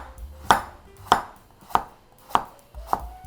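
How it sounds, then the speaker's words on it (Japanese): A knife cuts carrots into thin julienne strips on a cutting board, five crisp, evenly spaced chops about half a second apart, close and clear with no talking. "人参は千切りにします。"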